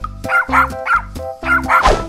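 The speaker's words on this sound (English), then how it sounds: "Dog." A cartoon dog gives a run of five or six yappy barks in a steady rhythm, loud and near, in an animated animal-themed kids' scene.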